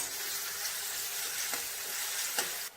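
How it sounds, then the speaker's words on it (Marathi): Ginger, coriander and garlic paste frying with onion in a pan makes a continuous hissing sizzle, with a few faint scraping stirs near the end. "अद्रक कोथिंबीर लसूणचं वाटण परतून घ्यायचं"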